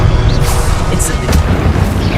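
Incendio fire spell in the Hogwarts Legacy video game, a loud, dense roaring blast with deep rumble that fills the whole moment, punctuated by a couple of brief whooshing flares.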